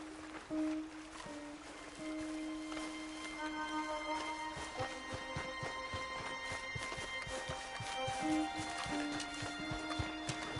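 Horses in Red Dead Redemption 2, hooves clip-clopping steadily at close range with an occasional whinny, set against ambient game music tones.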